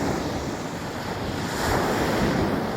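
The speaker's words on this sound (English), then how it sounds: "But it's the ocean" Ocean surf at sunrise near a city shoreline, a loud continuous roar of breaking waves mixed with wind buffeting the microphone, swelling slightly toward the end.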